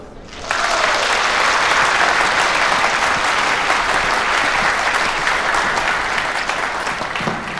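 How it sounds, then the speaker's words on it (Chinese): A lecture audience breaks into applause to welcome a professor: after a half-second pause, dense, even clapping rises suddenly and holds steady, tapering only slightly toward the end. "下面就让我们用掌声欢迎陆教授"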